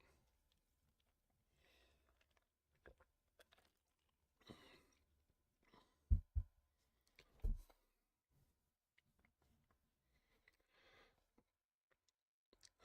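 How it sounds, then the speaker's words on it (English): A few scattered coughs and throat-clearing sounds, close and fairly quiet, separated by near silence. "my sinuses are draining and making me cough."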